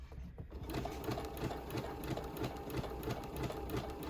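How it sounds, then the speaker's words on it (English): A sewing machine stitches fabric for a skirt, running in a steady, continuous mechanical whir with fast needle pulses close by and no talking. "I'm gonna let the machine kind of pull the fabric."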